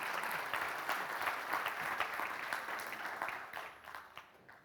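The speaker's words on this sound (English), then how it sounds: "and a big applause again" Audience applause at a conference session on food and feed safety assessment, a steady mass of claps filling the room before thinning out and fading near the end, with no talking over it.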